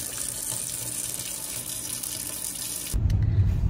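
Water running from a tap to water plants in a Canadian home, with a steady faint flow that grows louder and fuller toward the end.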